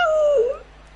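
One short dog whimper rings out close and loud as a thin, falling whine that fades quickly into near silence.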